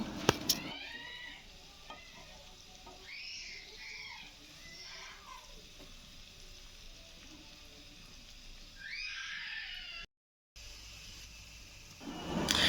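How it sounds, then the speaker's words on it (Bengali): Chopped onions fry in a pan, a soft steady sizzle with occasional stirring scrapes and clatter, fairly quiet, with a louder burst of frying near the end. "পেঁয়াজের কাঁচা গন্ধটা যে পর্যন্ত না যায় সে পর্যন্ত আমি পেঁয়াজটা ভেজে নিব"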